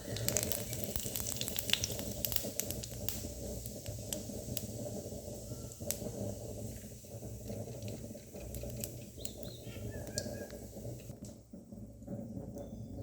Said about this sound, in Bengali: গোটা জিরে ফোড়নে দিয়ে দিলাম।